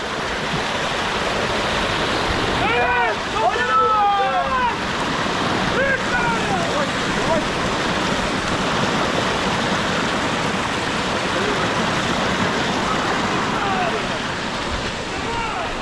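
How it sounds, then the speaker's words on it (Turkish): A large waterfall on an outdoor nature hike produces a loud, constant roar of rushing water that fills the whole scene. Brief voices talk over it now and then. "Aa, büyük şelale."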